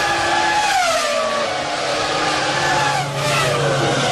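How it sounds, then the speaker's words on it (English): A Formula One car at the 2001 Hungarian Grand Prix screams past on track, its loud high-revving engine whine shifting in pitch as it goes by, close and continuous throughout. "Here comes Jacques Villeneuve from 7th place."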